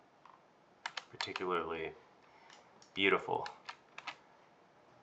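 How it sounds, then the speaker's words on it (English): Computer keyboard keys click in quick irregular bursts while someone navigates a 3D scene, crisp and close but fairly quiet, with a person speaking in between. "I apologize for my keyboard clicking while I'm navigating around the scene here"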